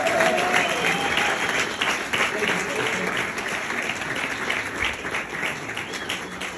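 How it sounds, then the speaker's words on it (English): Audience applause in a Portugal business talk, a dense, steady wash of many hands clapping that stays loud throughout with crowd murmur beneath. "round of applause for him"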